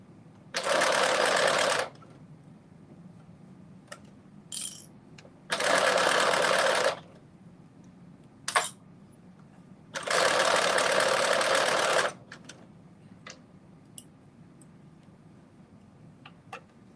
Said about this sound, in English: I am almost finished sewing this first ruffle on.